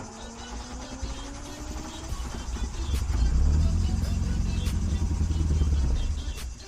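Starting attempt on a VW Golf 1 GLI engine with an idle fault, a starter whir with rising pitch, then the engine catching into a rough rumbling idle that swells and fades, nearby.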